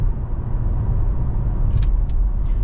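A 2023 Toyota Camry SE Nightshade AWD driving through a right bend, heard from inside as a steady low road and engine rumble, with faint brief squeaks near the end.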